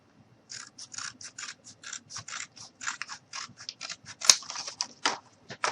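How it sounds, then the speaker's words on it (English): Scissors snip steadily through a thin cardboard strip while making small cardboard pots and pans, a rapid run of crisp, close cuts at an uneven rhythm, heard alone without talk. "all I did was cut it out, and I'll do another one"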